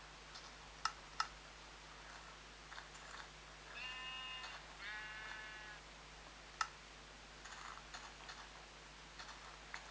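Two short, quiet sheep bleats from a Minecraft PE game sound in the middle, surrounded by sparse clicking ticks and a faint steady hum, with no talking.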